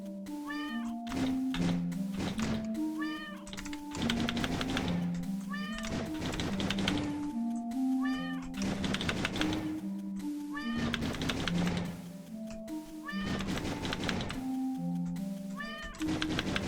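Repeated cat meows in the video game Furquest, rhythmic short mewing calls recurring every second or two over a looping spooky game soundtrack with knocking percussion, loud and close.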